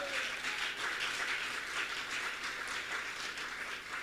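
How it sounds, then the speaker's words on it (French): A church congregation applauding, a continuous dense patter of many hands clapping at moderate, fairly distant level with a faint murmur of voices, steady throughout without a clear start or stop. "Est-ce qu'on peut donner de l'acclamation à Yeshua?"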